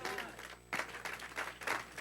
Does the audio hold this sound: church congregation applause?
yes